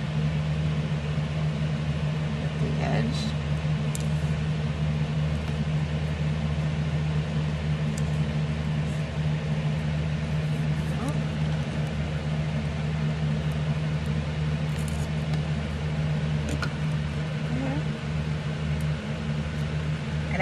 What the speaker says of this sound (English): I'm just going to try and speak loud for you so you can still hear me over the fan.